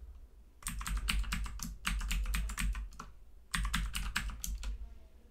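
Rapid bursts of keystrokes on a computer keyboard while a password is entered, close and crisp, with two clusters of quick clicking separated by a short pause.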